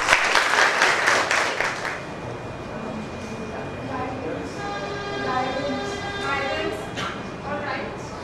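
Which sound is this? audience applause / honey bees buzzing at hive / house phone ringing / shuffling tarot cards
audience applause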